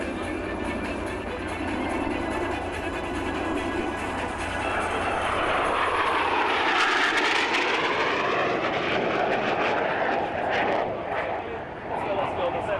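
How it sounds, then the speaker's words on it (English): Swiss Air Force aerobatic jets in a formation flying display at an airshow roar past, a broad jet rumble swelling toward a loud flyby with a sweeping Doppler pitch shift, while a commentator talks over a public address. "Distance between each aircraft is 3 meters only, and the speed of about 400 knots is maintained."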